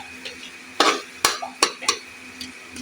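Masala chicken liver being stirred and roasted in a pan over low heat, soft sizzling with several sharp spoon scrapes and clanks against the pan, close and intermittent.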